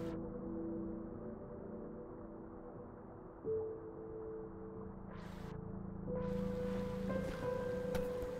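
Muffled underwater ambience from the video game Celeste: a low, steady droning bed with sustained tonal layers, brief swells of hiss partway through, constant and moderately quiet with no speech.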